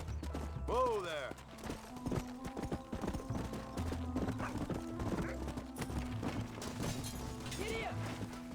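Hooves clip-clop steadily as a horse is ridden in the video game Red Dead Redemption, with a whinny early on and game music and effects underneath. Someone speaks briefly over the riding.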